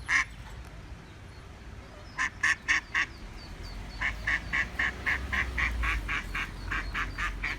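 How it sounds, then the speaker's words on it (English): Baby ducks quacking: bursts of rapid, evenly spaced calls, a short run of four and then a longer string, close and fairly loud over a low outdoor background rumble. "Oh, there are the baby ducks."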